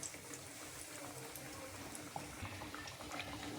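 Paneer cutlets fry in oil over medium heat, giving a faint, continuous bubbling sizzle with small scattered crackles and no voices.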